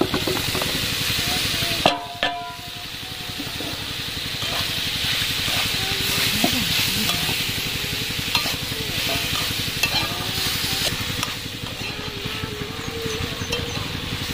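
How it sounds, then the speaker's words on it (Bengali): Mixed vegetables, already fried, tossed and stirred in spiced oil with split tomatoes in a pan for Bengali panchmishali sobji chhokka, giving a steady close sizzle broken by scraping stir strokes throughout. "ভেজে রাখা সবজিগুলো দিয়ে দিচ্ছি এর মধ্যে।"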